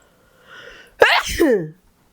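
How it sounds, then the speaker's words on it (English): A single loud sneeze bursts out after a soft intake of breath, close and sharp, then trails off into quiet. "oh my God, I need to sneeze."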